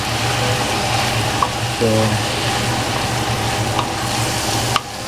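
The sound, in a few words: mixing paksiw na lechon in the pot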